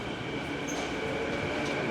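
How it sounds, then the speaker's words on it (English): A Vancouver SkyTrain passing close by, a steady loud rail rumble and hiss with a faint high wheel squeal, continuous throughout with no talk. "Looks like we're going to miss the subway, which is technically the SkyTrain here in Vancouver"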